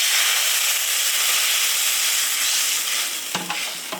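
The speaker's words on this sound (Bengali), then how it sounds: "এই তেলের কড়াইতে আমি জল দিয়ে দেবো" Water hits a pan of hot oil left from frying potatoes, and a loud, steady hiss of spitting and steam fills the moment. A few dull knocks of the pan come near the end.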